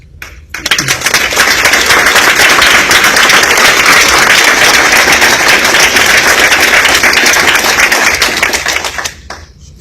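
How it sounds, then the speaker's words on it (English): An audience breaks into loud, dense applause after a speaker at a meeting, starting abruptly, holding steady for several seconds and then tapering off, with no talk over it. "Let's applaud her."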